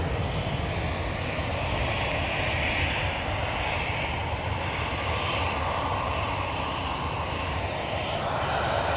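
Steady, loud roar of an aircraft engine as a plane moves at Manchester Airport, a broad continuous rumble that swells slightly mid-clip, with no voices over it.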